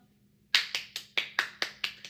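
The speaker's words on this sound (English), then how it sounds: "I'm clapping for you" A single person claps hands close by, eight crisp, evenly spaced claps after a brief moment of quiet, with nothing else around them.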